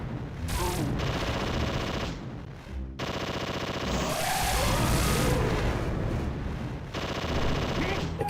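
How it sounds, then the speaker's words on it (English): Rapid chain gun fire from the arcade zombie shooter Zombie Revenge, a loud, dense stream of automatic shots and booms running almost nonstop, with a short gap and brief bursts of other game noise. "Chain gun."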